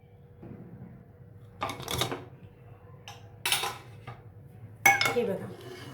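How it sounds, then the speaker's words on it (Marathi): A pressure cooker lid opened after cooking dal, three sharp metallic clanks and scrapes spaced a second or so apart in a quiet kitchen with a faint background hum. "कुकर थंड झालाय, आता उघडून बघूया आपण"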